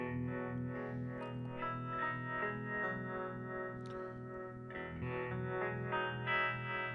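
An electric guitar chord rings out through effects at a live Orange Room session, a sustained shimmering, chorused and slightly distorted tone, restruck a few times and fairly loud.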